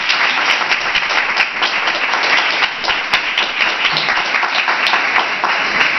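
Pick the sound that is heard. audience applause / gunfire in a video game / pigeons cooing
audience applause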